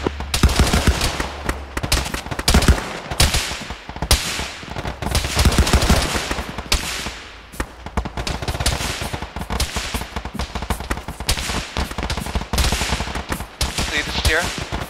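Sustained automatic gunfire from a defense weapon pours out in dense, rapid bursts aimed at a target, loud and continuous for the whole stretch with only a brief dip midway and faint radio-style voices buried underneath.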